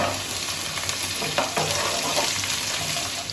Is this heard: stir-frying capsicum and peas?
yes